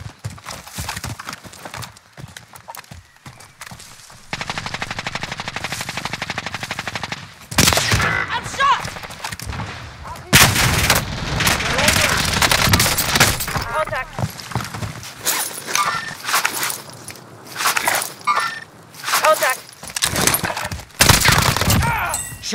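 Gunfire in Call of Duty Warzone trios match on PS5, bursts of rapid shots breaking out repeatedly between quieter stretches, loud and close, mixed with game effects and other sounds.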